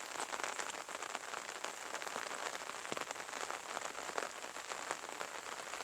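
Steady drizzling rain falls over open fields on an overcast day, a soft continuous patter of drops throughout with no voices.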